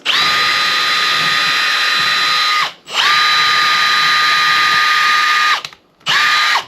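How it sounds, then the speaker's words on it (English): A power drill with a 3/16-inch bit whines loudly at high speed in three long bursts, briefly stopping between each as it bores into drywall. "So I need to drill a hole with my 3/16 inch drill bit right there"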